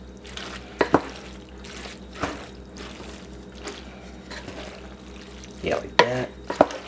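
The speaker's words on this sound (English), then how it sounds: "all you do now just stir it up" Taco meat and macaroni being stirred in a pot over low heat, soft scraping and wet squelching strokes with a few sharp clinks of the spoon against the pot, while a voice speaks briefly.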